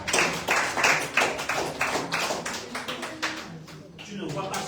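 A congregation at a French-language church service claps in a brisk, uneven rhythm to acclaim the Holy Spirit, many close hand claps with voices mixed in beneath.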